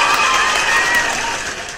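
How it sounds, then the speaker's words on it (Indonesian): A dense wash of clapping from a crowd, loud and steady, tapering slightly toward the end. "tepuk tangan buat Brian"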